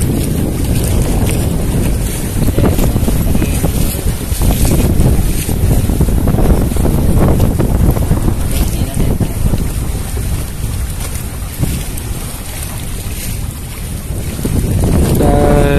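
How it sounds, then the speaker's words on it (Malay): Strong wind batters the microphone at an abandoned jetty on the coast across from Penang island, a loud continuous roar with gusting rumble and no pauses for the whole stretch. "So agak berangin lah hari ni."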